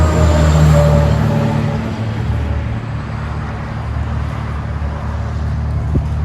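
A 2015 Chevy Impala V6 with straight-pipe dual exhaust, its engine rumbling loud and close with a deep, steady low drone that swells briefly near the start and then settles.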